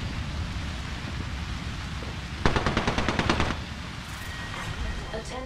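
Alternator gunfire in the video game Apex Legends rattles off as a rapid burst of about a dozen close, sharp shots over a constant noisy game backdrop.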